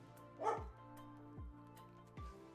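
A dog gives a short bark followed by a few whining, falling yelps spaced about a second apart, fairly faint over a steady low hum in an indoor room.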